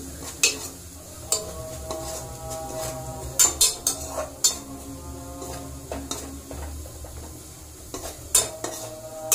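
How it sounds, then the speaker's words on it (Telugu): Turmeric being stirred into chicken curry in a pan, a home-style cooking pot scraped in repeated close spoon strokes with sharp metallic clinks over a steady low sizzle. "ఇక పసుపు వేసుకొని ఒకసారి కలుపుకోండి."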